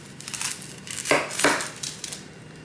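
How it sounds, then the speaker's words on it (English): A knife chops through a yellow onion on a board in a home kitchen, with a few crisp, close strikes and two sharper cuts standing out, no talking. "I'm also gonna cut up some of the yellow onion"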